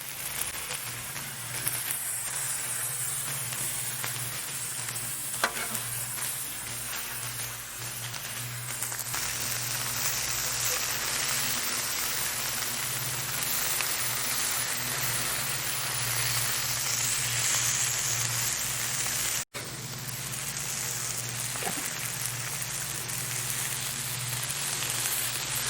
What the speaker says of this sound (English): So we're tending to the brats, just trying to make sure all the meat gets good contact with the griddle.